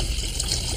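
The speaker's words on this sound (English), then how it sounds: "Pour some vinegar into a pitcher." Vinegar is poured into a pitcher as a steady, full splashing gush of liquid, continuous and close, with no voices over it.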